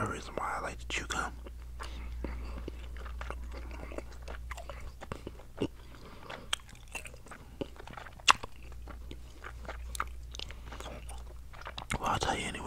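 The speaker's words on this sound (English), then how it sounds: "you want another real reason why I like to chew gum?" Bubble gum chewed near the mic with wet smacks and small clicks scattered throughout, under soft whispering, with a low steady hum in the background.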